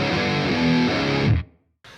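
Heavily distorted electric guitar plays the full intro riff of a song, loud sustained overdriven notes that cut off into brief silence before another strum begins.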